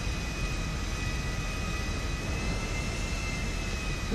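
An airplane in GTA 5 rolls along after landing on an airfield. Its jet-engine noise is a steady, even broadband roar with a thin whine on top, heard alone for a few seconds.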